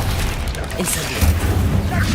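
Incendio fire spell cast in the Hogwarts Legacy video game, a booming burst of flame that swells up loud and close, with a voice talking around it.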